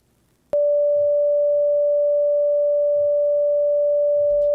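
A thermoacoustic engine, heated hard at one end around steel wool, switches on abruptly and sustains a loud, steady pure tone with no talk over it.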